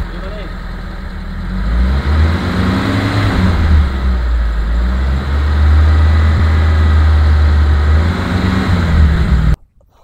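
A 2010 Mitsubishi T120ss pickup engine runs steadily near the microphone, a loud low idle that swells and rises in a couple of broad revs before cutting off abruptly at the end.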